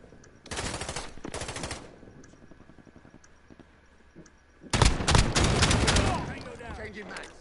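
Loud automatic gunfire in a video game shooter, one burst of rapid shots, then a quieter stretch with faint clicks, then a second, heavier sustained burst with overlapping fire.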